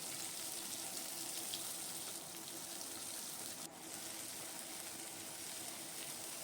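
Chopped onion drops into hot oil already holding black cumin and green chilli and fries with a steady, even sizzle that stays quiet and continuous, with a brief dip midway.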